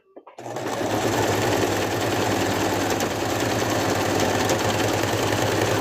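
After a few quiet handling taps, a sewing machine starts up and stitches plush in a loud, continuous, rapid whirring rattle that holds at an even pace to the end.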